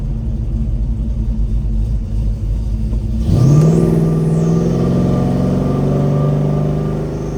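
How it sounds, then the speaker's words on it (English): A 1970 Chevrolet Chevelle accelerates on the road toward a 60 mph cruise, its loud engine droning steadily before a gear change brings a sharp, rising rev that settles into a smooth, sustained hum, with no talking. "That second gear feels good when it shifts."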